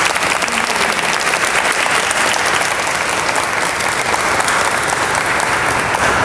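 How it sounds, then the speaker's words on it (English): A loud, steady round of applause from a large group of university students at a forum, continuous dense clapping that fills the whole stretch at close range without letting up. "let's do a round of applause for the Advocate Center"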